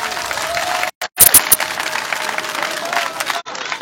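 A crowd at an outdoor political rally in Côte d'Ivoire breaks into loud, sustained applause and cheering. A couple of brief dropouts interrupt the clapping, which carries steadily to the end.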